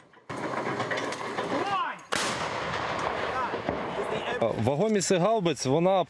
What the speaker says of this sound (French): elle pilonne les positions russes grâce aux systèmes d'artillerie occidentaux